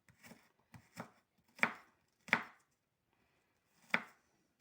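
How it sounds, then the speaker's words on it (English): Knife chopping food on a board while preparing a seafood lasagna, five crisp, separate chops in an uneven rhythm, close and clear, with a short pause before the last one. "A little bit chopping up again."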